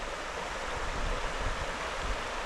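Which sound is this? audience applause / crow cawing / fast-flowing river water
fast-flowing river water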